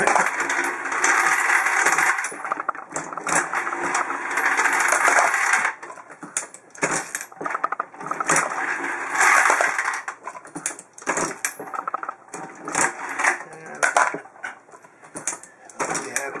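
A Hornady Lock-N-Load AP reloading press works through rounds of ammunition with busy metallic clinking and rattling, loud close bursts of clatter broken by short pauses.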